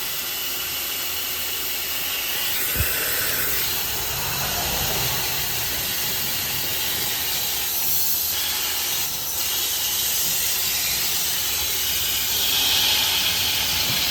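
A loud, steady high-pressure hiss of water spraying onto a vehicle radiator runs the whole time, broadband and unbroken, with brief shifts in tone as the stream moves.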